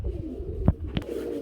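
Large shaking-breed pigeons coo nearby in soft, low, brief calls over a light background hum.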